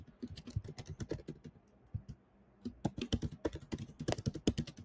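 Rapid, uneven keystrokes on a computer keyboard, close and fairly loud, come in quick bursts with a short pause near the middle, no voices over them.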